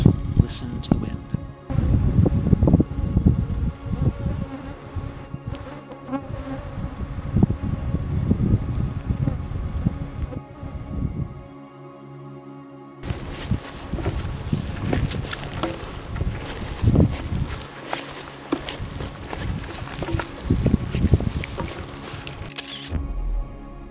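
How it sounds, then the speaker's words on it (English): Wind sweeps across open tundra in the Gates of the Arctic, a steady rushing buffet against the microphone with gusts rising and falling, close and fairly loud, with a brief lull midway. "It's quite lovely to sit here on the tundra with my back against my pack and listen to the wind."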